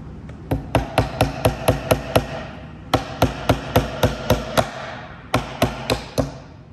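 A hammer taps a side piece of a wooden keepsake box into place, firing quick, sharp knocks in three bursts of regular strikes with short pauses between them.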